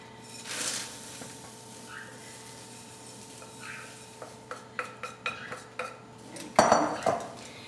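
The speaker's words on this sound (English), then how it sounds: "Spread it around evenly and continue to stir" A granola mixture of oats, sugar, cinnamon and vanilla being stirred in a pan, soft scraping at first, then a run of sharp utensil clinks and knocks against the pan growing louder toward the end.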